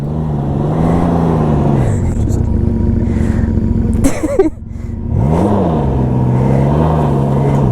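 A 2020 Can-Am Ryker three-wheeler does a burnout, its engine revving hard and loud and close. The engine rises and falls, dips briefly midway, then climbs again in another sustained rev.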